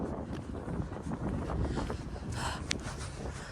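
Wind buffets a microphone steadily on a roadside walk near an airport, a continuous low rumbling roar with a few sharper gusts and no talk.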